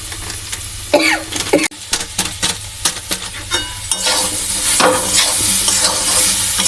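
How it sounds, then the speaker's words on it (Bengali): Chili powder and cumin powder fry in a pan with a loud close sizzle, broken by repeated scraping and knocking strokes of a spatula stirring the spices. "জিরে গুঁড়ো লঙ্কা গুঁড়ো সব দিয়ে দিলাম। লালচে লালচে হয়ে আসছে, ভাজতে ভাজতে এই তো লাল পড়া হয়ে আসছে।"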